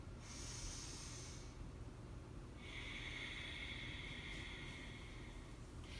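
Slow ujjayi breaths drawn through the nose with the mouth closed, two long airy hissing breaths close by, one after the other with a short pause between, quiet and steady with no talking.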